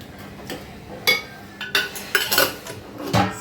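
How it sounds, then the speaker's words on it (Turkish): A spoon stirring tomato paste into oil in a metal pan, with scattered clinks and scrapes of utensil against the pan, close and clear with no talk. "Şimdi onu yağımda iyice hepsini beraber özleşene kadar karıştırıyorum."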